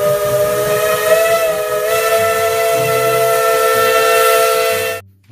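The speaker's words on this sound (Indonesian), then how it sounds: "Dan yang terakhir, kereta Thomas." A Thomas toy train lets out a loud, sustained steam whistle with a hissing edge, holding one long blast for about five seconds before it cuts off.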